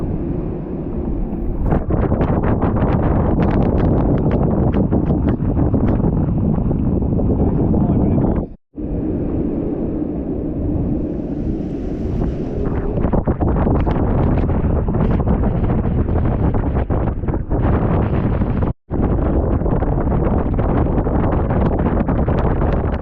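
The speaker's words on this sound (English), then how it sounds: "Squall come through, 25 knots of wind." Squall wind gusting at about 25 knots while sailing in the Grenadines, loud, constant roaring buffeting against the microphone with brief dropouts and a voice talking underneath.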